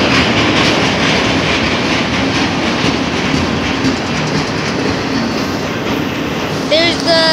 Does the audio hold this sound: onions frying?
no